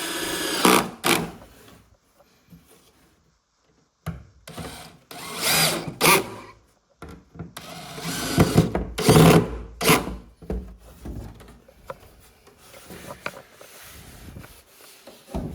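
Power drill driving screws into a board, several separate bursts of whirring with pauses between, close and fairly loud, with brief silences and some handling noise.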